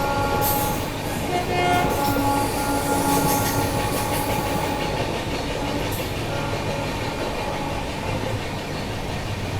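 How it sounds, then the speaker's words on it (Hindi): Brahmaputra Mail train shunting near Kamakhya railway station in Guwahati, heard as a steady, loud rumble of rolling rail wagons with a brief horn-like tone and wheel squeal, continuous throughout without talk. "ब्रह्मपुत्र मेल की शंटिंग चल रही है यहाँ पे।"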